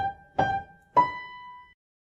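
Two sustained piano notes or chords sound in turn, each struck cleanly and left ringing, forming the opening of Beethoven's Rage Over a Lost Penny played alone.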